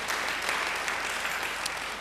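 A church congregation gives dense, continuous applause during a sermon, many hands clapping at once in a close, full wash of sound with no break.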